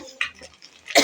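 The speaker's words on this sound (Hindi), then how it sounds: "तो खांसी हो रही है बहुत ज़्यादा हम सबको।" A sudden, harsh cough bursts out close by near the end, after a few faint, scattered sounds, in a home kitchen while roti is being made.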